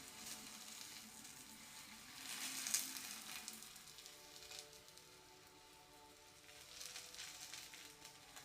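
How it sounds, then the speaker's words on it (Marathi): Onion paratha frying in oil on a hot griddle, a soft, steady sizzle that swells twice with brief bursts of crackle, close and fairly quiet, with no talking. "आपण आता ह्या तव्यावरती 1 पळीभर तेल टाकून घेऊया. आणि मस्त पैकी आपल्या पराठ्याला भाजून घेऊया."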